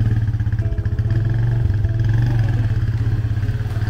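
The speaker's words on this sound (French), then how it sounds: "En plus, on va encore monter sur la moto." Motorcycle engine running steadily during a ride, a loud close low drone with rhythmic pulsing and some clatter, and no talk.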